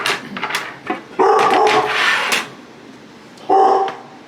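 A house dog barks in loud bursts close by, with a couple of sharp yelps, a sustained run of barking, a pause, then a final bark.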